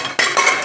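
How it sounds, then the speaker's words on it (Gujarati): A pressure cooker lid is set on and closed over sabudana in a home kitchen, giving a short metallic clatter and clink, then a brief scraping rattle as it settles, close and fairly loud. "કુકરનું ઢાંકણું બંધ કરી દઉં"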